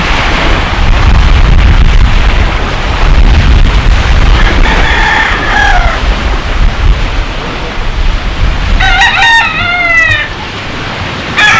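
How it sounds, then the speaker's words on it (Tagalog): Fighting roosters at a beach resort crow twice, one call midway and a louder one near the end, over a constant heavy roar of wind and surf that dominates the scene. "May mga panabong."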